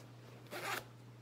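Zipper on a Nike quarter-zip pullover drawn in one quick, close pull of about a quarter second, a soft rasping zip over a steady low electrical hum.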